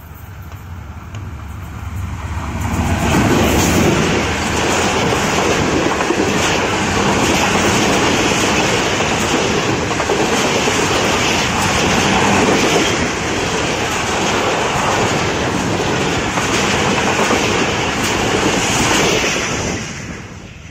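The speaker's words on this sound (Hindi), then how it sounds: "इकबाल एक्सप्रेस आज बहुत तख़ीर से आ रही है" The Iqbal Express passenger train rushes past close by, a loud, steady roar of wheels and rolling carriages that swells quickly and holds for nearly twenty seconds before easing slightly at the end, with no talk over it.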